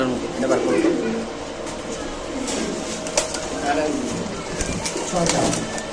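Pigeons at a market stall, sold as racer birds, coo and flutter in a steady low murmur close by, with someone talking over them throughout.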